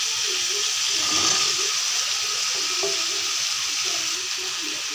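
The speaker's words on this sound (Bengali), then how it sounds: "মাংসটা ভাজা হয়ে গেছে। এখন আলুটা দিয়ে দেব।" Potatoes join browned meat frying in a pan. A steady, close sizzle carries some faint stirring and bubbling underneath and eases slightly toward the end.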